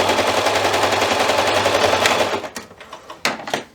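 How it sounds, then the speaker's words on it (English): A sewing machine stitches a shoulder seam on a girl's nightgown at a 3/8-inch allowance, a fast continuous rattling run up close that stops partway through, followed by a few scattered clicks and handling noises. "we're just going to sew one of the shoulders, not both, just one."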